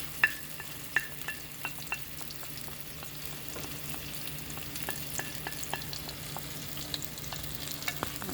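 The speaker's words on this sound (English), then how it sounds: "I am going to put my chili powder and my curry powder into the onion" Chili powder and curry powder fry with onion in a pan for Sri Lankan lamb curry, giving a soft, constant sizzle with a scattering of light clicks and scrapes from stirring throughout, fairly faint and with no talk.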